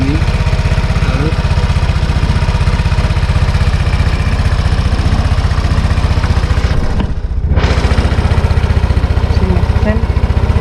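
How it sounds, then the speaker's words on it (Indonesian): A Vespa LX125 automatic scooter engine idles close up with a steady, even putter, dipping briefly once before settling back into the same rhythm. "Jadi ini kondisi motor Vespa-nya lah ya. Iya, mesin nyalanya kayak gini."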